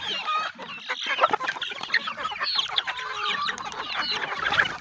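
Native chickens cluck and squawk continuously at close range while being fed, several birds calling over one another with busy overlapping clucks and no talk.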